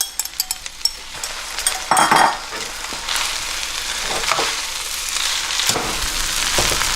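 Noodles sizzling loudly in a hot pan as a sauce mixture is poured in and stirred through, a steady close frying hiss with scraping stir sounds, no voices.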